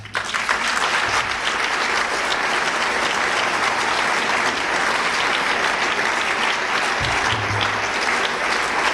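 Sustained audience applause fills a National Book Awards ceremony hall, a dense, steady clatter of many hands clapping at full strength from start to finish with no voices on top.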